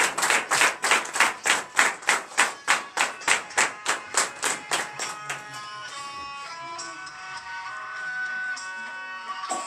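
A congregation at a Beninese morning prayer service claps in a steady, loud unison rhythm of about twenty sharp claps, which then fade into a softer, scattered patter with some lingering tones behind.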